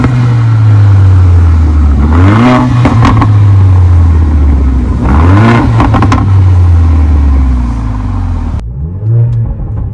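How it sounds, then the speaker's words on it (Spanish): Mercedes-AMG GLA 45 engine and exhaust in Sport mode, loud and close, revving up in three repeated bursts with crackling pops on the overrun, falling back to a steady idle between them. "Suena más duro ya con pops."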